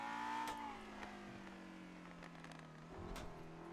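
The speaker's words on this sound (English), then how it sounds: "Then let it downshift. Yeah, the pops." In-game car engine in GTA NoPixel winding down through a downshift, harmonic tones sliding lower with sharp crackling exhaust pops near the start and again around three seconds, steady and close with no talk.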